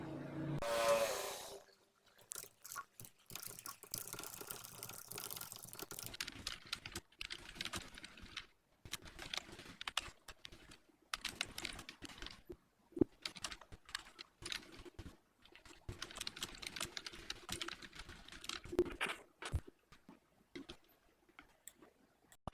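Typing on a computer keyboard while writing a blog post, a long run of close, rapid key clicks in uneven bursts with short pauses, heard alone without talk.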